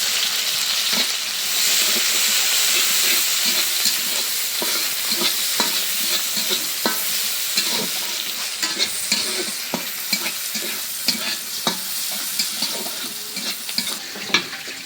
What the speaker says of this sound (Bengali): পেঁয়াজ রসুন ভাইজে নিলাম